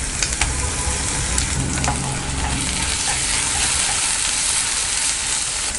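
Ginger garlic paste hits hot oil with golden-browned onions in a pan for paneer biryani, giving a loud, continuous sizzle and crackle with occasional stirring scrapes throughout.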